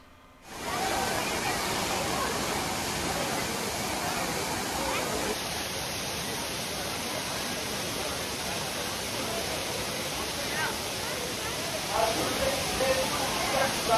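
Aintharuvi waterfall in the Western Ghats gushing down all five branches in the rainy season, a constant, dense roar of falling water that stays loud and even throughout.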